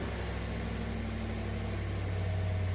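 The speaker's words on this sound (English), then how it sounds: "we're going to hold down the remote start button for at least 4 seconds" A Chevy Silverado pickup engine running after a remote start from the key fob, a steady close low rumble at idle that grows slightly louder and fuller partway through, with no voices.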